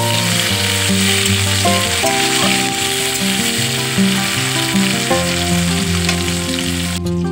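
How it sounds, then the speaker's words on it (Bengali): Chopped tomato and ginger fry in a pan with coriander leaves, a loud continuous sizzle up close with occasional stirring. "টমেটো কুচিটা ভাজা ভাজা হোক"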